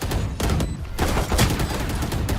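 Rapid gunfire rattles in a Valorant match, several sharp close bursts of shots in quick succession, loud and clustered over a couple of seconds.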